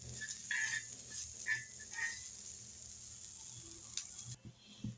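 Onions fry in a pan for chutney with a steady, soft sizzle close by, punctuated by a few brief higher chirps and clinks before it drops off near the end.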